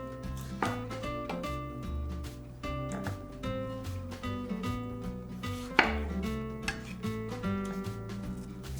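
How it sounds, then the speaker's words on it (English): Tomatoes are cut into large chunks for home-style butter chicken, with steady knife chops on a board faintly audible under loud background music. "Just chop them into large chunks"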